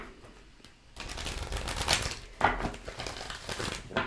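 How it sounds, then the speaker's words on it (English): Tarot cards are shuffled by hand in a quiet room. Bursts of riffling and papery rustling are close and moderately soft, with a pause near the start before the shuffling picks up. "One more shuffle."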